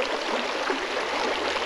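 A small creek flows steadily, its continuous rushing and gurgling water filling the scene evenly and fairly close, with no voices over it.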